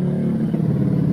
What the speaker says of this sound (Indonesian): ya Allah, suara knalpot.